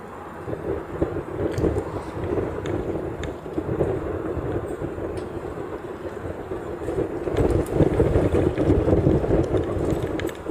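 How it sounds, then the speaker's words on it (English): Gusty wind buffets the microphone outdoors at Honolulu airport during plane spotting, a steady broadband roar that swells louder toward the end, with no voices. "Why does the wind have to pick up right now?"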